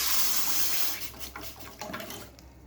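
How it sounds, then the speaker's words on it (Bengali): Water poured from a cup into a pot holding six or seven cloves, a steady splashing pour up close that breaks into uneven gurgles and trickles toward the end, with no talking. "এবার এটার মধ্যে আমি এক কাপের মতন একটু জল দিয়ে দেবো"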